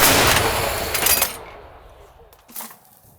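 A loud, broadband blast from an artillery gun firing outdoors, decaying over about a second, followed by a fainter second bang.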